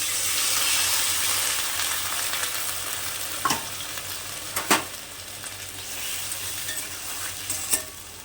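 Winter flat beans fry in a pan as a paste of mustard, turmeric, salt and sugar goes in, giving a steady close sizzle broken by a few sharp clinks of stirring, with no talk.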